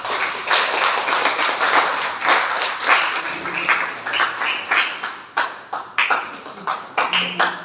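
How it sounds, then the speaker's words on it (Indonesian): A group claps hands in a classroom setting, with bursts of applause rising and falling in several rounds, fairly close and loud, ending in scattered individual claps. "Tepuk tangan untuk kita semuanya"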